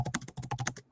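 Rapid typing on a computer keyboard, a dense flurry of close, crisp key clicks at an uneven quick pace for nearly a second before stopping, with no talking over it.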